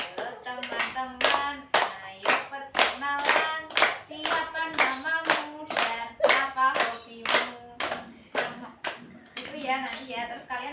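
A community group in a village counseling session sings a greeting song together while clapping their hands in a steady, regular rhythm, the loud sharp claps landing on the beat beneath the voices.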